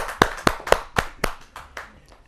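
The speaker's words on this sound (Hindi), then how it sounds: "जोरदार ताली के साथ स्वागत करें डॉक्टर JP पांडे जी का।" Several distinct hand claps ring out in a slow, uneven sequence and fade toward the end, welcoming a poet at a Hindi kavi sammelan poetry gathering.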